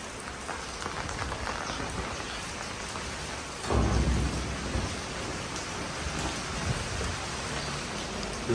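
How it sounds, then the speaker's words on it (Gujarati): Heavy rain pours steadily in a constant hiss, with a deep rumble of thunder rolling in partway through before the downpour carries on alone. "વરસાદ બહુ છે"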